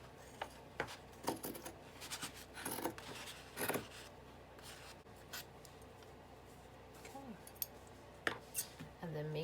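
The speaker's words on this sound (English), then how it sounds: "So now I'll just cut it." Scissors cutting through denim jeans for a patchwork upcycle, a series of close, crisp snips and rubbing fabric sounds spaced irregularly, fairly quiet, with brief speech in places.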